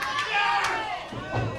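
A pro wrestling crowd cheers and roars in swelling waves as a wrestler rises to his feet, with a commentator talking over the noise.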